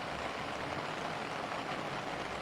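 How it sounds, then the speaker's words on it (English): Heavy raindrops drum steadily on an umbrella during a typhoon downpour in Nichinan, Kyushu, a dense continuous hiss of rain with no voices. "こちら差している傘には大きな雨粒の音が鳴り響いています"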